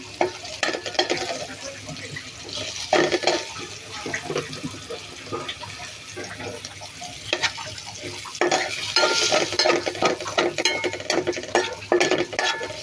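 Spices being stir-fried in a pan, loud close sizzling with repeated scraping and stirring strokes that swell and fade in bursts, with no talking.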